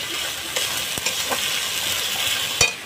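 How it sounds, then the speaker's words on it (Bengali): Garlic and onion paste sizzles steadily in a pan for a tofu curry, with a few sharp scrapes of a spoon stirring it, close and fairly loud, no voices. "রসুন পেঁয়াজ বাটাটা দিয়ে দেবো। এখন সুন্দর মতন কষিয়ে নেব।"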